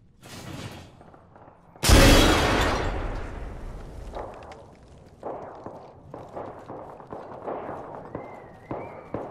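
A frag grenade in the video game Apex Legends detonates in a single loud, close blast that rings out and fades, then gives way to quick footsteps and light gameplay sounds.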